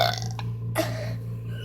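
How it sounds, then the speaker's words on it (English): A single loud, close human burp, a short guttural belch followed by a second rougher burst. "My burp's still coming out."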